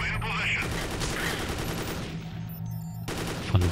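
Rapid gunfire in the video game Dead Effect 2 crackles in a dense burst over game music and effects, then fades before a final sharp shot.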